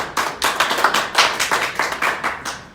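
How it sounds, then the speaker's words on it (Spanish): A small audience at a lecture applauds the speaker, with a handful of sparse, distinct claps in an uneven rhythm, close and fairly quiet, fading after a few seconds. "Un aplauso para el maestro"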